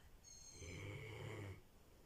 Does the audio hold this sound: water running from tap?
no